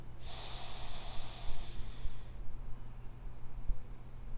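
A long, deep breath exhaled audibly during a guided meditation for kids, one steady airy breath near the microphone followed by quiet room tone.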